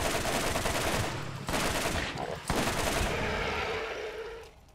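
Rapid automatic gunfire from a video game weapon, two sustained bursts of loud crackling shots with a short pause between them, fading out at the end.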